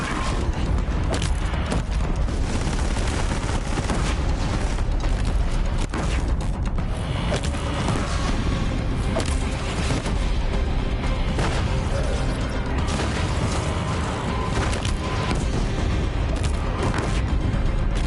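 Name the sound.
cannon fire explosions in Horizon Zero Dawn video game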